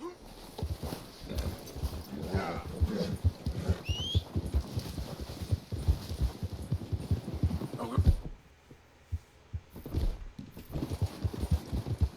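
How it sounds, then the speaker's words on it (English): Horse hooves clip-clop in Red Dead Redemption 2, a steady run of dull thuds with a brief whinny, heard at moderate distance over ambient game sound, with a short quiet gap before the footfalls resume. "Swear I heard like some hooves up there"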